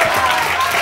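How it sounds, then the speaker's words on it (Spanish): Brief burst of studio-audience applause welcoming a guest named Raúl onto a television variety show stage, a short, dense patter of clapping. "Le damos un aplauso a Raúl, por favor"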